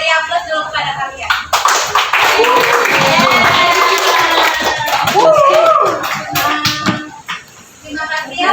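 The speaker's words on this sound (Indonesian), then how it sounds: "Beri aplaus dulu kepada kalian." Students in a classroom clap together in sustained applause lasting several seconds, with children's voices chattering over it before it tapers off.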